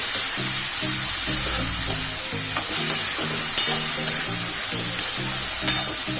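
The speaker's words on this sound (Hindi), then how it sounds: "मशरूम को तेल रे भल भाव भाजा" Mushrooms fry in oil for a mushroom masala curry made without onion or garlic, giving a steady, loud sizzling hiss throughout with a few brief clicks, over a rhythmic low beat underneath.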